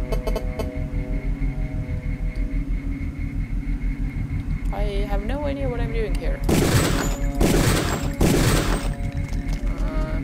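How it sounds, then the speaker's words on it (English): Gunfire aimed at a turret in the video game Deus Ex, two loud bursts of shots later on over a steady low game hum, with bleating-like electronic tones before them and a voice talking. "No, actually I would like to shoot the turret."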